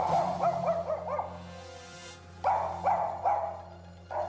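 A dog barks repeatedly outside a house, several sharp barks in quick bursts with short pauses, fairly close and loud against a steady low hum.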